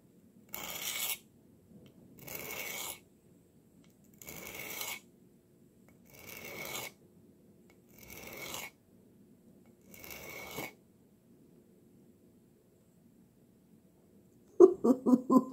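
Six evenly spaced rasping strokes of a blade drawn across a sharpening stone while an old knife of unknown steel is honed, each stroke about a second long with short pauses between, followed by a brief burst of quick clinks at the end.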